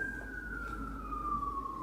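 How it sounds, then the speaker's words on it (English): An emergency vehicle siren sounds outdoors, heard from the woods as a single steady wail that drifts slowly downward in pitch over a low background rumble, moderately distant and with no talking. "Hear that siren?"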